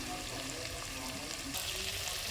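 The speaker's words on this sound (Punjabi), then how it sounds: "ਇਹਦੇ ਵਿੱਚ ਜੇ ਹਲਕਾ ਜਿਹਾ ਨਮਕ ਪਾ ਲਓ ਤੇ ਛੇਤੀ ਛੇਤੀ ਭੁੱਜ ਜਾਂਦਾ ਆ" Masala frying with a little salt in a pan, a steady dense sizzle that runs close and even throughout with no talking.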